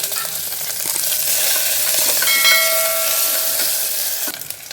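Mint leaves, two curry leaf sprigs and a finely chopped green chili hit hot oil for a village-style chicken curry, crackling in a loud continuous sizzle with stirring scrapes and a short ringing metallic tone midway.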